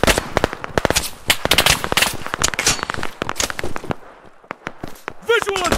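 Dense bursts of automatic gunfire and single shots in a PMC shooter video game, rapid and loud, with players shouting over the shooting.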